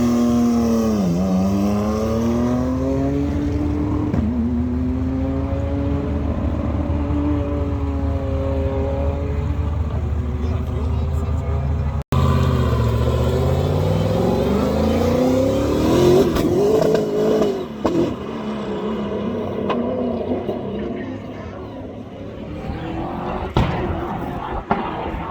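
Race car engine during Pikes Peak testing, revving and shifting with rising and falling pitch. It sounds steady and close for a long stretch, then more ragged with rattles and bumps.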